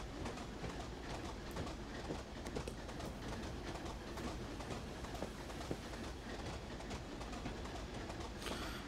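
A Class 25 diesel locomotive in a train simulator game, running on the Weardale and Teesdale network as it pulls out onto the main line, giving a steady dense rumble with faint rhythmic rail clatter throughout and no talking.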